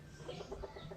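Chickens and roosters clucking in short, repeated bursts close by, a busy farmyard sound with a steady low background hum.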